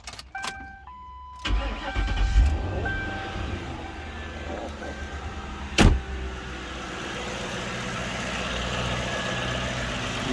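Engines of Panther-platform Fords started after an oil change with the cap closed, then left idling with a steady low rumble; a brief whine and a sharp click are heard as they fire.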